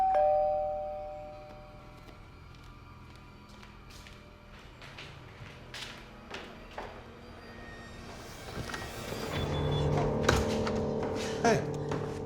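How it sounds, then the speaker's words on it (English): A doorbell rings inside a home, a soft electronic chime near the start, followed by thumps, footsteps and a door sliding or closing amid faint background voices. "So when the doorbell rang,"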